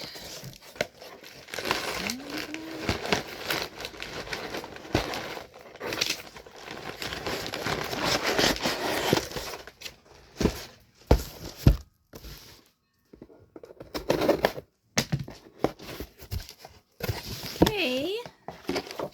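A taped cardboard package being pried and torn open by hand, with bursts of crinkling, tearing and scraping, pauses between efforts, while someone talks and exclaims throughout.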